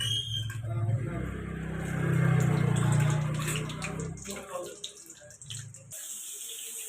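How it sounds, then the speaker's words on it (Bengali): Potatoes dropped into hot oil in a pan for a home mutton recipe give a loud, steady hissing sizzle that fades a little over several seconds, with a low hum underneath early on. "তেলটা গরম হয়ে গেছে। এর মধ্যে আমি ছেড়ে দিলাম আলুগুলোকে।"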